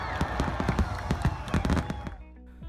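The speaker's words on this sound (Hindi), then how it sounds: "डिज्नीलैंड में हो रही पटाखों की आवाज" Fireworks bursting at Disneyland, a rapid crackling series of sharp pops and bangs over a couple of seconds before fading into a quieter hiss, heard from some distance.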